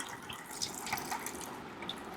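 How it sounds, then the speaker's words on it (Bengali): Room-temperature tap water splashes and drips while a face is washed at a sink, a faint continuous patter with small irregular splashes, close and quiet with no voices. "পানির শব্দটা অনেক সুইট তাই না"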